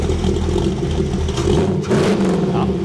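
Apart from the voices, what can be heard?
American car engine started and revved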